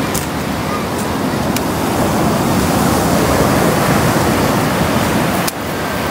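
Sea waves wash onto the shore at a seaside at sunset, a loud, continuous broadband roar of surf with slight swelling, close by, briefly dipping near the end.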